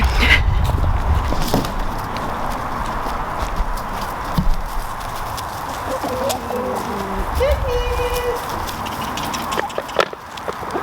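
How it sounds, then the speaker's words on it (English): Chickens cluck softly now and then while being given a snack on a farm as a person talks nearby, with some light footsteps and outdoor background noise. "the chickens really want their daily snack"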